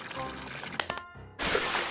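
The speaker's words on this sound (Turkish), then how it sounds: "Kovaları doldurun muslukta. Sonra da boşaltın havuza." Cartoon water poured from buckets into a pool, a brief gush and splash that breaks in after a short pause, loud and close, following a bit of cartoon background music.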